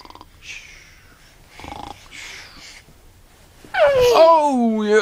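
A child imitates snoring with a voiced, rattling snore after a few quieter babbling vocal sounds, close and loud toward the end.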